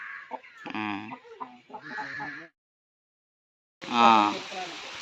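A fighting rooster of about 3 kg, a game-fowl cockerel for sale, clucks in several close, loud bursts, followed by a brief silence and one more strong call.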